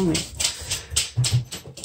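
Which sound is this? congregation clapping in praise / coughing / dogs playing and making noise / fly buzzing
dogs playing and making noise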